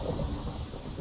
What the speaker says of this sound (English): that is a pretty big storm though, if you ask me